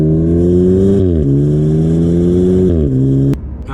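A 2024 Maserati Grecale GT SUV engine revs loudly and close, holding a sustained drone with several stepped shifts in pitch before cutting off abruptly near the end.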